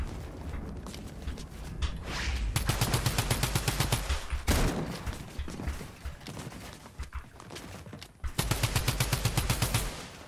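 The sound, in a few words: gunfire in a video game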